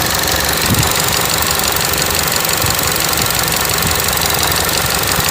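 Steady Chevy Cruze engine idle with a constant broadband hiss of air drawn in through a vacuum leak, continuous and fairly loud throughout with no talking.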